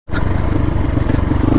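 A dirt bike's engine starts up abruptly and runs loud and close with a rough, pulsing drone throughout.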